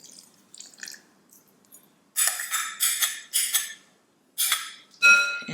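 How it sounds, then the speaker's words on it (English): Melted butter poured from a stick's worth into a bowl of coconut sugar, heard as several short, close bursts of splashing and gentle clinking against the bowl, separated by brief pauses. "Now that my stick of butter's melted, I'm gonna pour it up in here."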